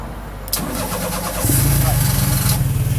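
A custom-built car's engine cranks with a turn of the key, then catches and settles into a steady, close idle rumble.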